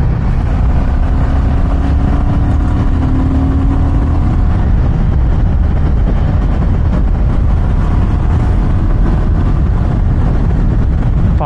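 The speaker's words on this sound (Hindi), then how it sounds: "और अब अपना चला भी सकते हैं बाइक को।" A Royal Enfield Himalayan 450 motorcycle being ridden in hot weather, its engine droning steadily and loud with heavy wind and road rumble throughout, the pitch shifting slightly as it pulls along.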